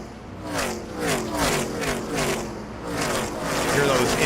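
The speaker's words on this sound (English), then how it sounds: "Hear those engines just grinding up off the corner." NASCAR Craftsman Truck Series engines accelerate off a corner during a race, a wavering, rising whine that swells and fades in repeated surges as trucks pass, somewhat distant.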